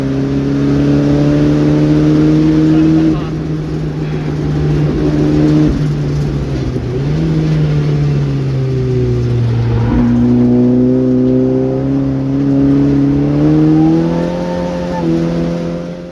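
Race car engine revving loudly on track at Castle Combe during an open lap under pushing, sustained strong drone with repeated rises and dips as the driver shifts and accelerates.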